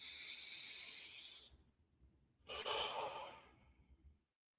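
Two slow, deep breaths during a gentle yoga session, each a long soft airy inhale or exhale hissing close to the mic, separated by a short silent pause, with no talking.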